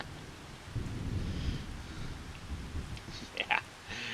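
Steady rain falls in the video game Farming Simulator 25, heard from a porch as a soft continuous wash with low rumbling, a few faint brighter drips and knocks toward the end, no talking.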